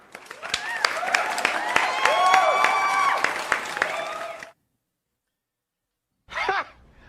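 Applause cheered for a guest on a live news talk show: a dense, busy burst of clapping and crowd noise for about four and a half seconds, then silence and a brief second flare near the end.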